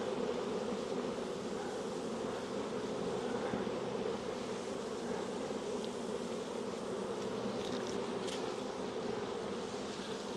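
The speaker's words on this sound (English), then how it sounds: "Lots of bees" Dense, steady buzzing of many honeybees swarming around an open hive during a nuc transfer, a continuous close hum with no talk.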